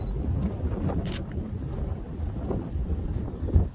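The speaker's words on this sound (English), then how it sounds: "as the wind picks up even more" Wind blowing steadily during a storm, a constant low rumbling gust noise buffeting the microphone outdoors, with a slightly stronger push near the end.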